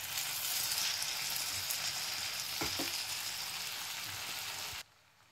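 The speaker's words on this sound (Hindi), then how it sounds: "अब मैं डाल दूंगी ये कटे हुए आलू, ताकि हम प्याज के साथ साथ इनको भी अच्छे से भून लें।" Chopped potatoes and onions fry in a pan with a steady, loud sizzle throughout, a couple of brief scraping knocks partway in, before the sound cuts off abruptly near the end.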